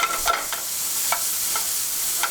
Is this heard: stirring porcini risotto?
yes